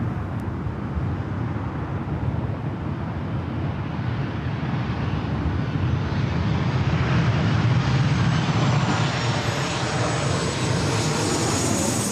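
A heavy airliner powers up for its takeoff roll on runway 24 left at Los Angeles International Airport, its jet engines a loud, steady roar that swells and holds for the full stretch, heard alone with no talk.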